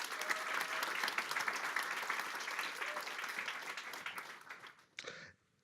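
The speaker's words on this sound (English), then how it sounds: "let's give him a round of applause." Audience applause fills a demo day event at Google HQ, steady dense clapping from a crowd that fades out near the end, followed by a brief short burst.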